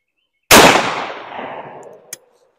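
A single loud blast from a 24 gauge shotgun firing a fold-crimp shell of tiny buckshot with buffer, sharp and close, tailing off over about a second and a half, followed by a faint click.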